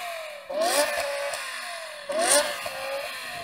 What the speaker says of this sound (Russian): Даниэль, устроим саундчек, и я подам оборотов первым.